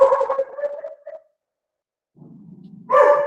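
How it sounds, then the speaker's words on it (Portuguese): A pet dog barking indoors, a few sharp barks close by, a silent gap, a low growl or whine, then another loud bark at the end. "meu cachorro está latindo"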